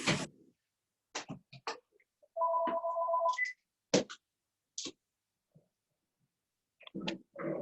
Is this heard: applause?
no